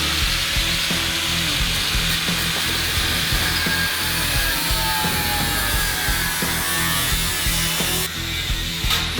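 An angle grinder cuts into a car body with a loud, continuous harsh whine and grinding rasp that stays steady and close throughout, with no voices.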